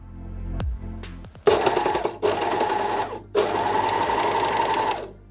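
A sewing machine stitches the shoulder seam of a bodysuit in two long, steady runs, loud and close with a whirring drone, broken by a brief pause and preceded by a few handling clicks.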